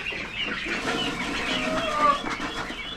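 Ducks clucking and chattering through most of the stretch, a mix of overlapping bird calls close by with a faint voice underneath.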